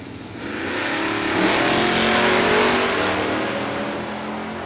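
Drag racing cars, including a hoodless Ford Mustang, roar off the line in a loud, sustained launch as the engine note builds and holds for several seconds.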